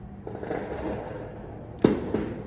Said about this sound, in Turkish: Havai fişek seslerini duyuyor musunuz?